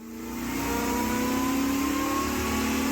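A C5 Corvette's LS1 V8 engine revs up and holds a loud, steady roar with a rising tone, close by and continuous throughout.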